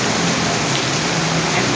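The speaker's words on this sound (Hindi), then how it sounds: "इंतहाई तेज बारिश" Heavy rain pouring steadily in Rawalpindi, Pakistan, a dense, loud, unbroken hiss of downpour with no pauses.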